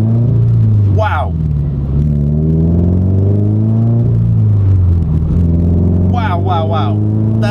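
A car revs and accelerates hard in race mode with a steady, loud engine rumble whose pitch rises and falls, while people talk and exclaim over it throughout.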